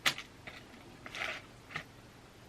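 Quiet, close crunchy bites into Domino's pizza and wings, a handful of short crisp chews spaced unevenly across a few seconds with no talking.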